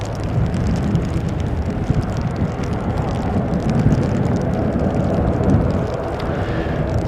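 Air New Zealand flight NZ 543 from Auckland arrives as a steady, broad engine roar with a low rumble. It holds at an even, loud level throughout, with some wind noise on the microphone.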